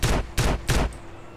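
AK rifle fire in the video game GTA San Andreas sounds as three loud, close bursts in quick succession, each a harsh rattling volley, ending in a brief fading tail.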